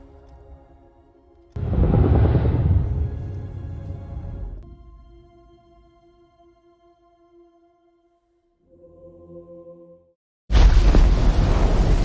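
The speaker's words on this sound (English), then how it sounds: "The shock wave of the explosion helps push the submarine to the surface" A deep, roaring explosion from the film Godzilla: King of the Monsters rumbles for a few seconds, then fades into sustained tones before another loud, broad blast hits near the end.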